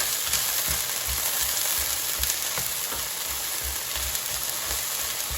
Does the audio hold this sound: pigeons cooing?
no